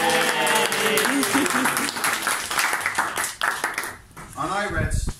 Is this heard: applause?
yes